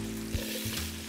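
Mushrooms hitting hot oil in a pan, a dense, close sizzle over a steady low hum, with a couple of soft stirring bumps in a brief burst.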